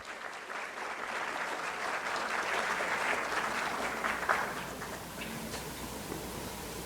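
An audience at a Spanish-language seminar applauds steadily to welcome a speaker, a moderate, somewhat distant wash of clapping lasting several seconds.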